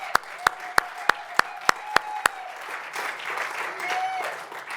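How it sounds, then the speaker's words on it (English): Applause from the audience at the 5th Annual Lot Ndlovu Lecture in 2018, opening with about eight sharp, evenly spaced loud claps and then settling into a softer wash of crowd clapping and murmur. "A round of applause"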